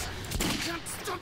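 A short, muffled burst of gunfire from Metro 2033 sounds amid a noisy game scene, ending quickly.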